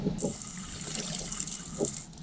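Water pours into a container to soak something, a brief, fairly faint trickle and splash with a few small gurgling bursts.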